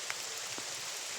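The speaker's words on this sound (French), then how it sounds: "La pluie qui tombe bien même." Steady rain falling outdoors, a dense even hiss with a couple of faint distinct drop taps, continuous and alone without voices.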